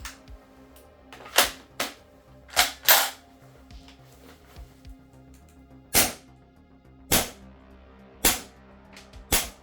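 A Krytac Kriss Vector gas blowback airsoft gun fires sharp single shots, sometimes quick pairs, at irregular intervals. Each shot is a crisp, snappy pop over a quiet background.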